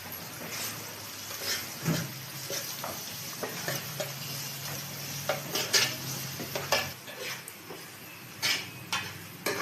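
Onions, ginger paste and curry leaves sizzle in a pan for a home-made fish curry, with a spoon scraping and clinking against the pan in irregular strokes over the steady frying.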